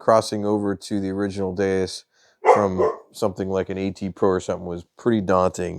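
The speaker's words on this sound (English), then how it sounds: "So if you hear my dog in the background" A dog barks intermittently in the background of a home, mixed under a man's steady, close talking that continues throughout.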